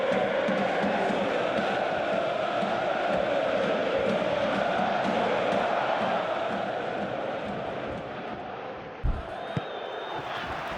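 A stadium crowd in a simulated football match, Borussia Dortmund against Atalanta in the Champions League, keeps up a steady, dense roar of cheering and chanting that dips near the end, with a short burst afterward.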